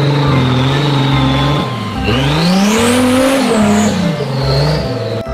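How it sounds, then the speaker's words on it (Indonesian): Toy off-road car sound effect, a loud engine revving whose pitch rises and falls in sweeps, with tire-squeal-like tones, continuous and close. "Widih, mobil off-road."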